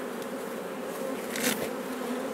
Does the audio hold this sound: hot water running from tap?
no